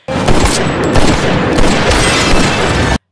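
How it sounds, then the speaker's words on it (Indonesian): Heavy gunfire in a Die Hard film shootout plays as a dense, loud, continuous barrage of shots and booms for about three seconds, then cuts off abruptly. "McLean langsung masuk ke tempat itu dan menembak Trey serta satu anak buah lainnya"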